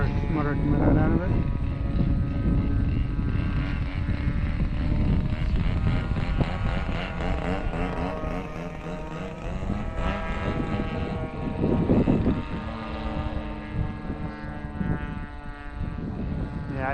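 A Tiger 30 model airplane engine drones steadily in flight, its note wavering and sputtering as the plane flies overhead, with people talking close by throughout.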